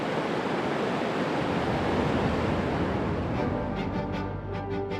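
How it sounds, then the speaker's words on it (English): A torrent of water bursts from giant pipes at the base of a Grand Canyon dam into the river, a loud, steady roaring rush, joined near the end by faint repeated chirps. "With the pull of a lever, Salazar released a torrent of water from giant pipes near the base of the dam."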